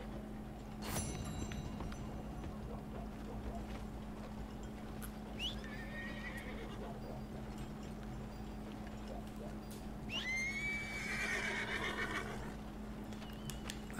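Horse in Red Dead Redemption 2 whinnies twice, with clear neighs around the middle and near the end over a steady game ambience and hum, plus a sharp knock near the start.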